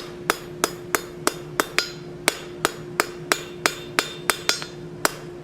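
A hammer strikes two steel pieces being forge-welded together on an anvil, sixteen bright ringing blows at a steady, fairly quick rhythm, close and alone.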